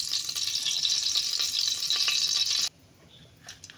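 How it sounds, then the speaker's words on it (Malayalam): Ghee poured into a hot pan for prawn biryani hisses and sizzles steadily for a few seconds, then cuts off abruptly, leaving quiet, faint clinks. "കുറച്ച് നെയ്യ് ഒഴിക്കണേന്."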